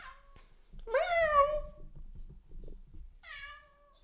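A pet cat meows indoors, a long drawn-out cry in the middle followed by a shorter meow near the end, close and fairly loud over quiet room noise.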